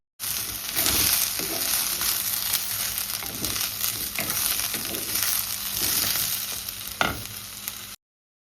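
Potato and brinjal frying in a pan for a curry, a steady bright sizzle throughout with soft periodic scrapes of stirring and one sharper clack near the end, no voices.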